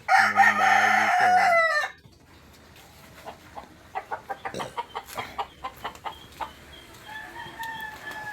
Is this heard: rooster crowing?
yes